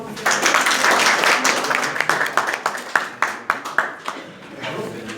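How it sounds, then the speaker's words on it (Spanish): Students in a classroom give a round of applause, a dense burst of clapping that thins into a few scattered, distinct claps before fading. "Bueno, chicos, un aplauso"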